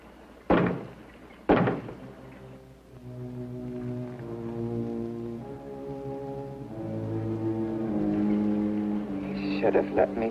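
Two loud, separate knocks on a closet door in the 1962 horror film The Brain That Wouldn't Die, each a heavy hollow thud, followed by a low, droning eerie music score.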